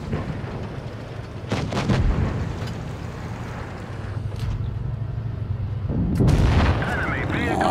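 Tank cannon shots in the mobile game World of Tanks Blitz, played with the Concept 1B tank: several booming gunfire blasts over steady engine rumble, the loudest near the end, with a voice speaking briefly at moments.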